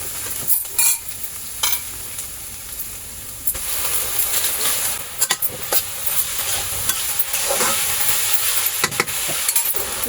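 Dhenki greens stirred in a frying pan with onion, a continuous sizzle and hiss broken by repeated scraping and clattering strokes of the spatula against the pan.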